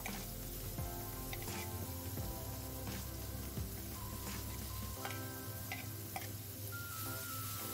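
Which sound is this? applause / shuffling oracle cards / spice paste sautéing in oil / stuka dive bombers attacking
spice paste sautéing in oil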